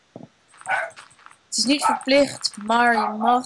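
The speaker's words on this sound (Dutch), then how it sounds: "Dat is mijn hond." A dog barks and yips in short bursts, ending in a drawn-out whine, close by and mixed in with someone talking.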